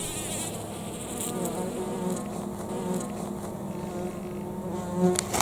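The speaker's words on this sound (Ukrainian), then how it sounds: "Ось який волохатий джміль" A close, steady buzzing of a furry bumblebee hovering nearby, droning low and continuous with a slight swell near the end.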